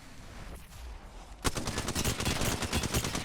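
Apex Legends gunfire, a near, loud burst of rapid automatic shots that starts abruptly and rattles on steadily to the end after a quieter lead-in.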